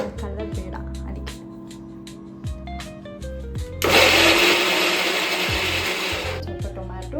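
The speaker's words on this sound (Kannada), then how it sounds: "so first aloo grind ಮಾಡ್ಕೊಳ್ತಿದ್ದೀನಿ" A kitchen mixer grinder whirs loudly for about three seconds as it grinds potato, a dense steady motor roar that starts abruptly and fades out, with talking before and after.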